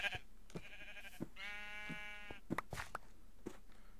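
Sheep bleating in Minecraft, a single clear wavering bleat of about a second, with soft blocky footstep taps scattered before and after.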